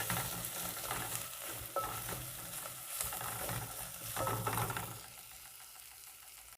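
Onions with ginger and garlic cook in a pot, a soft, steady sizzle mixed with repeated stirring scrapes, nearby but fairly quiet, fading lower toward the end with no voices.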